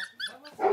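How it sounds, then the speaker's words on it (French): A dog at a boarding kennel for dogs and cats gives a single quick, rough bark with a growling edge, close by. "ils gardent une cinquantaine de chiens et chats en plus"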